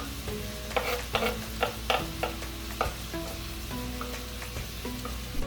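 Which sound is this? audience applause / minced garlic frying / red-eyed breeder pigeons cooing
minced garlic frying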